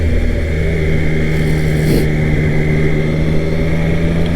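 A 2020 Triumph Street Triple 765RS motorcycle engine idles steadily while warming up, a close, constant low hum with no revving and no talk over it.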